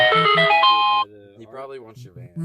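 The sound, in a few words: phone ringing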